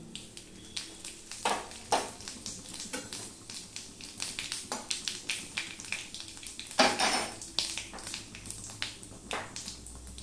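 Two dried red chillies and panch phoron frying in hot oil for tomato chutney, a soft sizzle under scattered clinks and scrapes of a spoon against the pan, close and fairly quiet.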